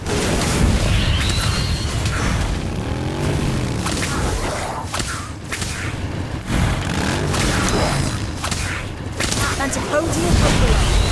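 Fiendfyre spell in the game Harry Potter Magic Awakened: a loud, continuous roar of booming fire and sweeping whooshes with repeated surges, while a voice talks over it.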